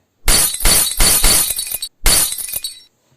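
A glass-breaking sound effect: two loud, close crashes of shattering glass, the first longer with a spray of tinkling fragments, then a brief pause and a second shorter smash that dies away, with no talk.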